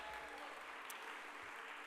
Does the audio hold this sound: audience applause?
yes